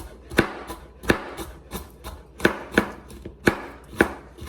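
A knife chops carrots on a cutting board in a steady run of sharp, close knocks, about two per second.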